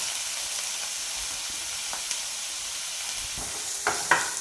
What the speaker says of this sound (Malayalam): ഒരു 2 മിനിറ്റ് സമയം ഒന്ന് വഴറ്റിയെടുത്താൽ മാത്രം മതി.